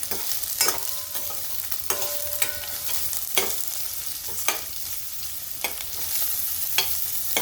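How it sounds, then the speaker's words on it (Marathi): Onions sizzling steadily as they are sautéed until soft in a pan for dhaba-style dum aloo, with repeated close scrapes and clanks of a spatula stirring through the continuous frying hiss. "कांद्याला आपण थोडंसं परतून घेणार आहे, थोडंसं एकदम सॉफ्ट होईपर्यंत"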